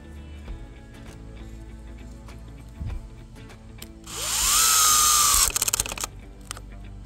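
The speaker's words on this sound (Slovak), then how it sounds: "Začíname skrutkovaním malých skrutiek na elektronickej spojke, režim 1, druhá rýchlosť." A Herman AXSP-1803 cordless drill, set to electronic clutch mode 1 at second speed, drives small screws, giving a rising whine of about a second followed by rapid clutch clicks, with faint handling knocks before and after.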